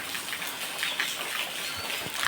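Heavy rain falls over a Gujarat village homestead where buffaloes are kept, giving a steady, dense hiss that runs through the whole moment without a break.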